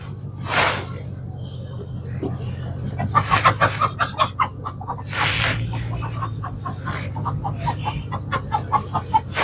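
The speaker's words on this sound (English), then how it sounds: "See, that chicken is not happy that Annie got her out." Agitated clucking from an unhappy chicken on a Texas ranch, a run of short repeated calls close by, heard under nearby talk and background noise.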